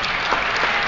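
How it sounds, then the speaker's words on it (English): Sustained audience applause at a 1973 Los Angeles mayoral candidates' forum at UCLA, a dense, steady patter of many hands clapping throughout with no one speaking. "She deserves the applause"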